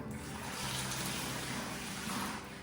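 Water pours steadily into a bucket from close by, a continuous rushing, splashing stream with no break, as measured water is added for mixing Sika Grout 212.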